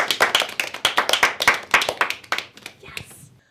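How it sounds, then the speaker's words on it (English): Audience at a talk on aging and fall prevention clapping, sharp distinct hand claps in a fairly even rhythm from a small group, close and clear, thinning out and fading toward the end. "So give yourself a round of applause."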